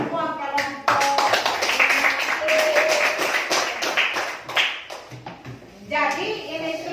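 Students in a classroom clap for all the groups, a burst of quick, uneven hand claps lasting a few seconds, with children's voices talking and calling out over it before and after.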